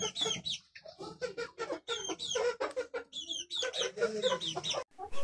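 A young desi chick and other chickens recovering from a cold cluck and peep busily, with dense, rapid, close calls overlapping throughout.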